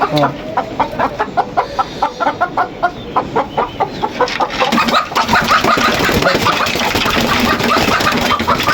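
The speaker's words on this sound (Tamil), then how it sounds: "இது வந்து அதான் கருங்கோழி இது நல்லா பெருசாக சைஸா இருக்கும் இது வந்து நாட்டுக்கோழி" Country chickens and black chickens clucking in a poultry-rearing yard, rapid repeated clucks and squawks from several birds close by, growing busier and denser toward the end, loud and alone without talk.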